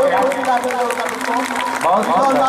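An audience claps loudly at a live Bhojpuri dugola folk singing program, sustained applause mixed with crowd voices and shouting.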